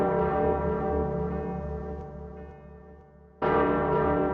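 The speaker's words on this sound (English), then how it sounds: "does anyone else hear those ominous bells tolling?" Deep church bells toll with a long ringing echo, fading briefly before another loud strike rings out.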